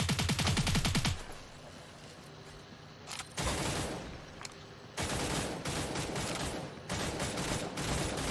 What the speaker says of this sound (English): Too many people shooting at me already